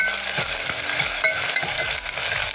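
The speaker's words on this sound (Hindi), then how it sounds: "इसको अच्छे से ब्राउन होने तक भून लूंगी" Two chopped medium onions browning in hot oil with garlic in a pan for daal makhni, giving a steady close sizzle broken by the scrape and clatter of stirring, with no talking.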